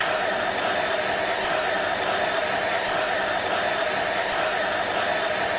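A hair dryer drying an egg-white crackle-effect coating on a craft piece, blowing a loud, steady, unbroken rush of air from start to finish, close up and with nothing else audible.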